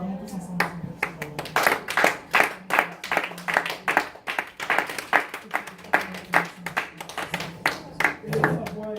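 A church congregation claps in steady rhythmic unison, a dense run of sharp claps that carries on throughout, with singing and voices mixed in underneath.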